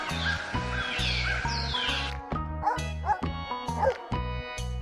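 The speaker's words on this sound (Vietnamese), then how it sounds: "con chó" A dog barks in several sharp yaps over a steady music beat, close and loud, with a crow-like cawing mixed in early on.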